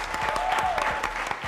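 Studio audience applauding a contestant on a live Ugandan TV game show, a steady wash of clapping filling the short moment with a faint tonal whine over it.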